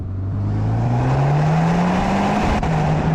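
A modified 470 bhp Skoda Superb engine fitted with a Garrett turbo revs loudly and close, its drone climbing steadily in pitch for about three seconds with no talking.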